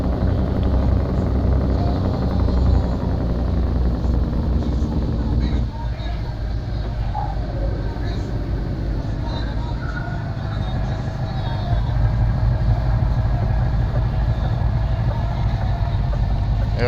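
A DAF XF V8 truck engine in Truckers of Europe 3 roars continuously with a deep, loud drone that shifts pitch as it revs and changes gear, and someone talks over it.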